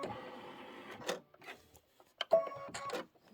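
A sewing machine stitches in a short steady burst, goes quiet with a few light clicks, then runs again for a second burst, close and fairly soft, with no talking.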